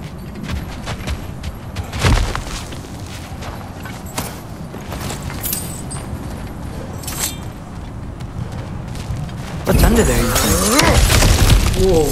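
Cracked ground smashed apart in God of War Ragnarok on PS5: a sharp shattering crunch near the two-second mark, later a louder sustained burst of breaking rubble, set over steady game ambience and a talking voice.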